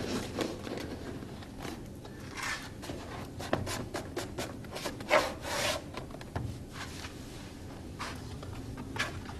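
A knife drags and scrapes through safety flooring vinyl at an external mitre, with irregular rubbing and slicing strokes close up and no talk.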